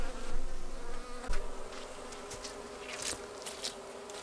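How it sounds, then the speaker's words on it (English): Honeybees hum around an overwintered hive in spring with a steady close buzz. Louder swells come as single bees pass near, and light handling noises sound now and then. "it looks like there is a lot of bee activity"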